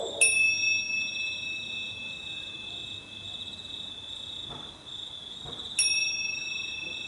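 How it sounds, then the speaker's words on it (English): A small bell struck twice to close a yoga relaxation, each strike a bright sustained ring with lingering high tones, the second near the end, over quiet room hiss with no talking. "Hearing that little bell is your cue to slowly bring a bit of movement back into your toes and fingers."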